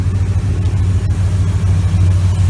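A 2001 Ford E350 Super Duty van with a 5.4 V8 and a budget exhaust mod drones steadily up close, a loud, deep, continuous rumble with no breaks.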